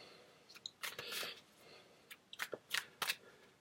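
Tarot cards being shuffled in quiet bursts of soft riffling and slapping, several short clusters with pauses between, close and fairly faint.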